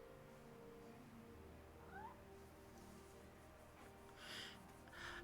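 A house cat gives a couple of soft meows, faint against a low steady background hum, with a brief snort-like sound later.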